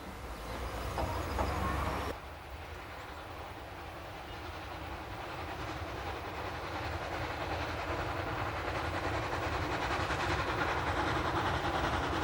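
A German-built 1913 Henschel steam locomotive, formerly of Portugal's Douro valley lines, runs along a countryside railway with a steady, continuous rumble and rolling wheel noise, loud and sustained throughout.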